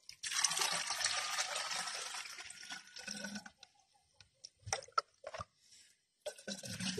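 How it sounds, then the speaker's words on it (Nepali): Water is poured from a tap into a small container for mixing a spray for citrus plants, a steady close splashing for about three seconds, followed by scattered quiet drips and handling clicks. "यसमा पानी हालिदिन्छु"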